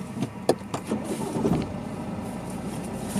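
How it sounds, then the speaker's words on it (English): A car started from off and settling to idle, the rev counter sitting just below 1,000 rpm, gives a steady low engine rumble with a few sharp transient knocks near the start, fairly quiet and alone. "idle speed happens when you turn the car on."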